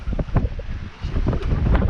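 Strong steady wind roars and buffets the microphone on a sailboat under way at sea, with a low rumbling undertone and gusts that rise and fall.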